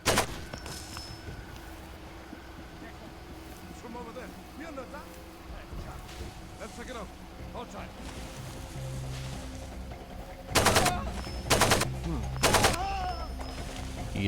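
Gunfire in Far Cry 2: three sharp, loud shots ring out in quick succession near the end, after a stretch of quiet outdoor ambience with faint background noise.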